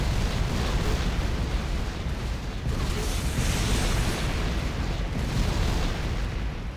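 Grenades exploding in Factorio, a dense, continuous rumble of overlapping blasts and booms, loud and close, with no pauses.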